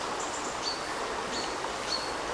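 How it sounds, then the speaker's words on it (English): A woodland stream near Eymoutiers, France, flows with a steady, even rush of water that fills the whole clip, while a few faint bird chirps sound in the distance. "just listen to the water"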